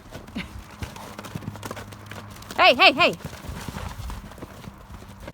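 Horse named Nika whinnies in a short, loud call of several rising-falling pulses, while hooves clip-clop faintly nearby and a person shouts briefly over the scene.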